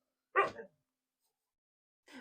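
A dog barks indoors in a craft shop, one short sharp bark followed after a pause by the start of a second. Both are fairly faint, and no one talks.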